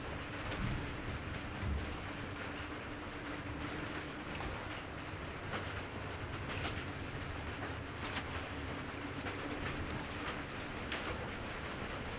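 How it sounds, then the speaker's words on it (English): Rainstorm in the video game Alan Wake 2, a dense steady hiss of falling rain with scattered brief drips and taps, continuous and without talk. "It's starting to rain here. Sounds like a storm."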